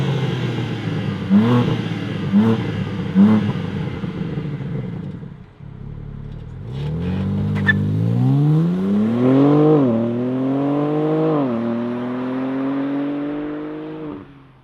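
A 2021 BMW M3 Competition engine first gives a few short clattering blips, then drops to a brief lull before roaring into loud, rising revs that climb in repeated surges and settle into a strong, steady idle-high drone.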